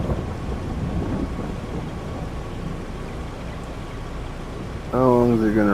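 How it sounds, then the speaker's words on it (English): A rainstorm in Farming Simulator 22 on the Mountain Hill map: a thick, windy wash of rain with a low rumbling undertone. It holds steady and then gives way to someone talking near the end. "It's raining?"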